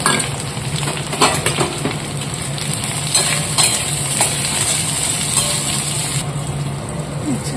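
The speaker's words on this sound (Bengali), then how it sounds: "ডাটা আলু ভাজা হয়ে গেছে এবার পেঁয়াজ দিয়ে দেবো" Onions hiss and sizzle in a kadai of hot oil with panch phoron and fried potatoes and vegetable stalks, a steady broadband frying noise with occasional stirring scrapes and clinks, close and continuous.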